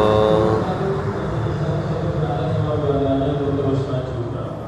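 Brantas economy-class passenger train rolls into Tegal station, a loud, steady low rumble of carriages with a rising tonal hum, heard from close by and continuing throughout.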